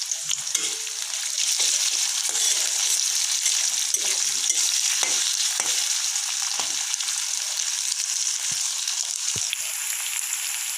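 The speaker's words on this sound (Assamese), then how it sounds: "আৰু এখিনি কেঁচা গোন্ধটো যোৱালৈ অলপমান ভাজিলো" Ginger-garlic paste sizzles steadily in hot oil alongside chillies, a dense continuous frying hiss with scattered clinks and scrapes of stirring, close and alone without speech.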